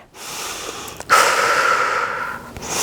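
A person takes a long, audible breath in and out through the mouth during a core stretch, close and breathy, with a sharper rush of air midway.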